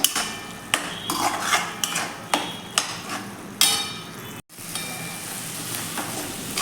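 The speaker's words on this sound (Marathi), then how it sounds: "हे भाजलेले हरभरे आहेत ते घालून हे हरभरे आपण छान असे व्यवस्थित असे मिक्स करून घेऊया" Roasted chickpeas are stirred into fried masala paste in a pan, a metal spoon clanking against the pan at irregular intervals over a soft sizzle, with no one speaking.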